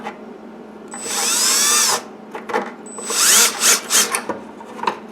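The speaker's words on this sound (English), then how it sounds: "that's where I'm going to drill" A power drill bores into a Yamaha R6 track bike armour bodywork panel, giving two loud, close bursts of rising whine with a pause between them, followed by shorter rattling pulses.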